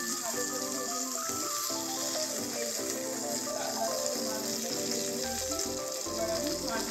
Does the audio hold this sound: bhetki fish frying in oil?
yes